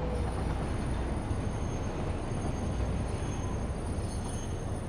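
A freight train rolls along a track in the factory-building game Satisfactory, a steady low rumbling drone with a broad hiss that stays even throughout and has no voices over it.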